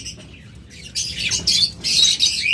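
A pair of pet rainbow birds chirps, faint at first and then in loud, dense bursts of overlapping high calls, close by.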